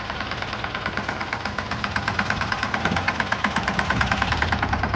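A tractor engine runs steadily nearby. It gives a continuous mid-pitched mechanical drone with a faint knocking pulse and no voices.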